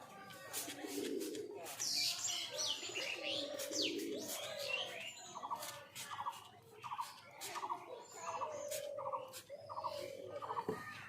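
Pigeons coo repeatedly in a soft, rhythmic series, with chirps and tweets from other birds mixed in nearby.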